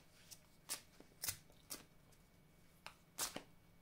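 Tarot cards are handled and shuffled in short, quiet bursts: several crisp riffling flicks spaced irregularly, close but soft, with no talking.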